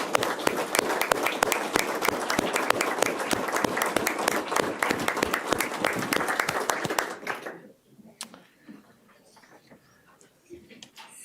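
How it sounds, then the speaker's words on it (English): A round of applause in a Marathon County Board regular meeting chamber: many hands clapping steadily for about seven seconds, then the clapping tapers off into a quiet room with a few faint stray sounds. "I would like to offer him a round of applause"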